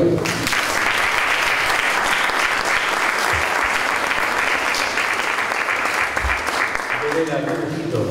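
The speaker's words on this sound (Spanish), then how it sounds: "nos recibimos con un aplauso" Sustained audience applause welcoming guests, a dense, even wash of many hands clapping at close range that runs continuously and starts to thin near the end as a voice comes in.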